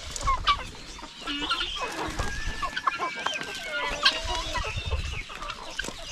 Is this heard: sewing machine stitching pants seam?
no